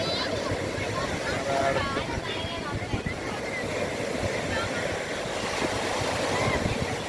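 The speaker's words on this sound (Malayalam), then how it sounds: "ഇതാണ് നല്ല വലിയൊരു തിര വരികയാണ്" Big sea waves at Kovalam beach roar and wash in a steady broadband rush with wind buffeting the microphone, loud and continuous, while people talk faintly under it.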